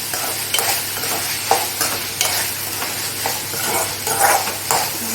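Country chicken chukka with pepper powder stir-fried in a pan, with a steady sizzle and repeated scraping strokes of a spoon stirring through it, close and fairly loud, no talking.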